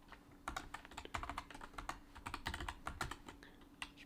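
Steady typing on a new computer keyboard, with quick, close clicks and clacks in an uneven rhythm over a faint low hum and no talk.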